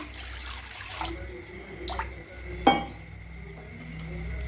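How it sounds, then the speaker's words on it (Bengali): Water poured into a kadai (wok) while making sago rasgulla, heard as soft trickling and drips with a few light clinks of metal or glass, one sharper knock standing out midway. "এবার কড়াইয়ের মধ্যে জল দিয়ে দেবো"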